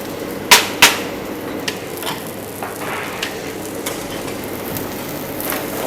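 Garlic, onion, paprika peppers and spring onion fry in a pan of margarine and oil for catering, a steady close sizzle opened by two sharp knocks of the utensil against the pan, with light scattered clinks after.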